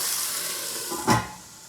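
Salmon and broccolini steam under a lid in a covered pan after charring, a steady broad hiss that swells briefly in a soft surge, then settles back.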